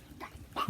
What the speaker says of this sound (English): Oh, there's my other dog.